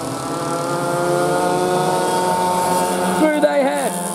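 Junior KT100 two-stroke racing karts pass close by, a steady buzzing engine drone with rising and falling pitch sweeps near the end as the karts come toward the listener and go past.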